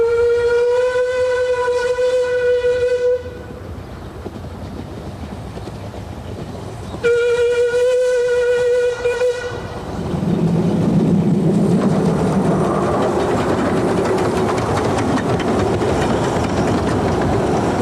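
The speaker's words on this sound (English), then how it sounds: "Number 3 is a 462 Pacific type locomotive built in 1926 by Davy Paxman." A 1926 Davey Paxman 4-6-2 Pacific steam locomotive on a light railway sounds two long, loud whistle blasts, then its running clatter and rumble swell as it passes close by.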